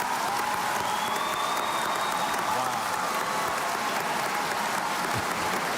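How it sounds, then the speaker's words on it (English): A crowd at the Scripps National Spelling Bee finals roars and applauds as fan favorites return to the competition, sustained loud clapping and cheering filling the hall, with a voice talking over it. "that roar you heard behind me is the crowd reacting that fan favorites Sarvadya and Sarv are right back in the competition"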